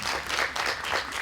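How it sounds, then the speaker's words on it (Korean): Brief burst of audience applause at a farmers' forum, many hands clapping steadily in a hall, filling the whole moment with no voices over it. "다시 한번 박수 부탁드리고요"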